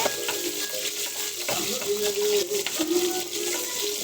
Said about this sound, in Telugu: ఉల్లిపాయలు వేసుకున్నామండి. తర్వాత వచ్చి కొంచెం బాగా దోరగా ఎగిరిద్దామండి.